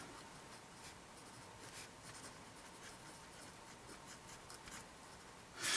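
A Cross 4506 fountain pen with a medium nib scratches softly across paper in steady strokes, faint and close, with a louder rustle at the very end and no talk.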